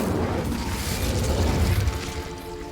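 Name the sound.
Incendio fire spell in video game Hogwarts Legacy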